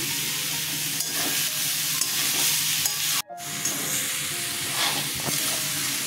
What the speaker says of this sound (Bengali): পটলটা দেখুন ভাজা ভাজা হয়ে গেছে।